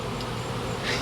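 Honey bees swarm at a hive in a tree, a steady dense buzzing that stays continuous and fairly close, with no voices.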